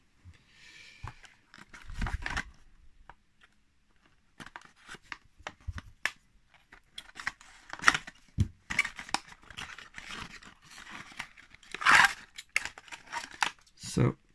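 Scissors or a blade cutting through a taped-up package, a run of short crisp snips, crackles and tearing sounds, close and sporadic over about fourteen seconds, with occasional quiet talk mixed in.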